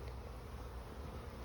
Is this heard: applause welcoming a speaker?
no